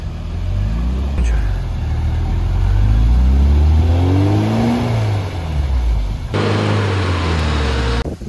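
An off-road vehicle's engine revs hard while driving over rough ground, its loud pitch rising and falling in long sweeps, with a brief drop near the end.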